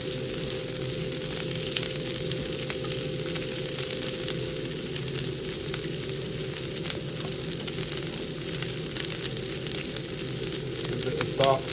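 Vegetables fry and sizzle steadily in a hot pan, a dense continuous crackle that holds at an even level for the whole stretch, with no one talking over it.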